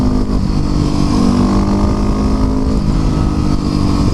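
A stock Yamaha WR250R motorcycle drives under steady load, its engine a loud, continuous, close-up drone with a slowly shifting pitch and wind rush.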